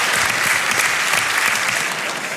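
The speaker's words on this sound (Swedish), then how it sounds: "Det är värt en applåd." Audience applause at a comedy roast at Berns in Stockholm, a dense, even wash of many hands clapping that stays loud and steady throughout the short stretch.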